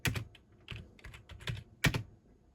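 Keystrokes rattle on an old PC's computer keyboard running Linux, coming in quick uneven bursts with short pauses between clusters, close and clear with no voices.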